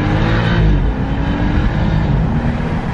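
A stock BMW 435i or M3 accelerates hard, its engine a loud, steady low drone heard from inside the car, building briefly and then holding.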